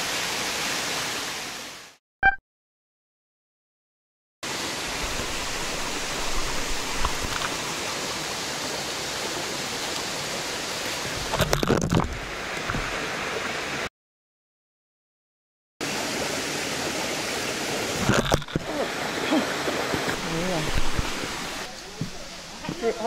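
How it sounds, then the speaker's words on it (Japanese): Constant roaring rush of Tengu Falls in the Okumusashi mountains, broadband and steady, cut by a couple of brief silent gaps. "天狗滝の近くまで来ました。"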